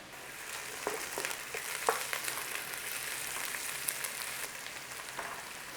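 Onions and green chilies fry in a pan for a corned beef curry, giving a steady, close hiss of sizzling with small pops and crackles throughout, no voices over it.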